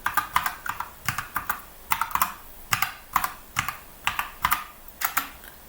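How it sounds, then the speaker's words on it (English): Steady clatter of keys on a computer keyboard as a command is typed, bursts of close, crisp keystrokes in an uneven rhythm with brief pauses, no voices. "I need to type the command SSH"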